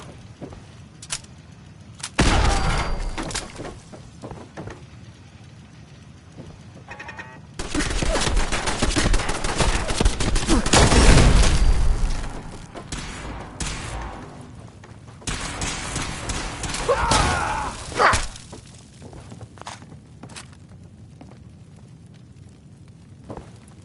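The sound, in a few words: gunfire from a PS4 video game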